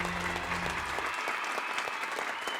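Audience at an award ceremony for doctors breaking into steady, dense applause, many hands clapping together at a fairly even level from start to finish, with a low hum fading out early on.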